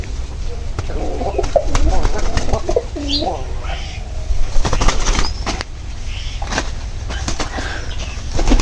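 Pet pigeons coo low and repeatedly at close range, with bursts of wing flapping, while voices talk nearby.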